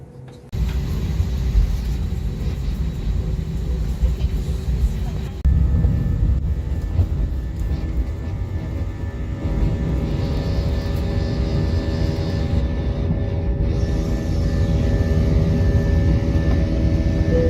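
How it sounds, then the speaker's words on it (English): A steady low engine drone and rumble fill a passenger airplane cabin on a flight from Phuket to Berlin, shifting slightly in tone partway through and continuing without a break. "Right, so I've made it on the plane, no problem."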